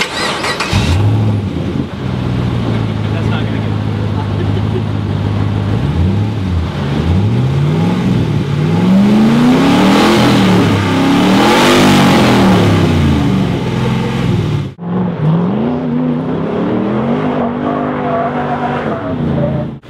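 A Rally Fighter car engine roars and revs loudly, its pitch climbing and falling through several throttle bursts, then cuts sharply before idling back up.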